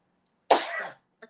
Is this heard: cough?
yes